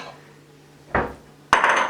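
Nacho chips tipped into a bowl at home, giving two brief bursts of close crinkly rustling and clattering after a quiet moment, with no talking.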